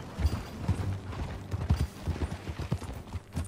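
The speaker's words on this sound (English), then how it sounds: "That new horse?" Horse hooves clip-clop in a steady, moderately close rhythm as a horse walks in the Red Dead Redemption video game, with no voices over the hoofbeats.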